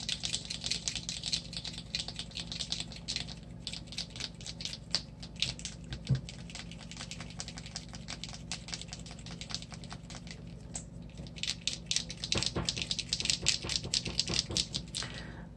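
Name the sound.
Color Factory paint marker with mixing ball being shaken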